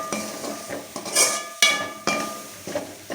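Masala roasting on low heat in a metal pan, with a spoon scraping and clinking against the pan in sharp, irregular strokes over a faint sizzle.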